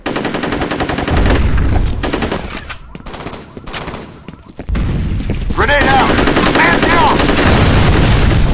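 FEAR Combat multiplayer match with loud continuous automatic gunfire and heavy booms, a brief lull, then renewed dense shooting and a grenade blast, with voices calling out over the din.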